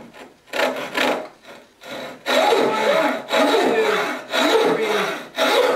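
A handmade frame saw cuts through wood in steady push-and-pull strokes, each rasping swipe loud and close, with short pauses between strokes and no talking.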